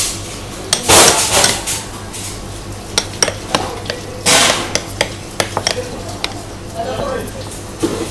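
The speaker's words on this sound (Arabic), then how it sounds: "نقلبها لحد ما كل المكونات تتمزج مع بعضها" A spoon stirs a pistachio chicken filling with small butter cubes and Italian herbs in a pan. It gives irregular scraping clinks and taps against the metal with a faint sizzle, while someone talks throughout.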